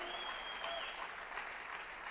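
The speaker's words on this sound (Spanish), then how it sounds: "Dele palmas al Señor de la gloria." Congregation clapping for the Lord at a Spanish-language evangelical vigil service, a brief burst of fairly faint, dense applause with a shouted voice or whistle-like tone riding above it.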